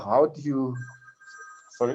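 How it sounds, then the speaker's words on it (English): A mobile phone rings with a short electronic tone pattern, heard faintly between and under a man's speech during an online discussion. "that was my phone."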